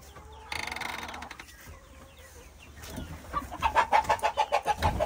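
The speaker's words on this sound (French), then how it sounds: "j'essaie de vous attraper un coq" A rooster on a poultry farm clucks in a quick run of rhythmic calls close by, following scuffling and handling noises as the bird is being caught.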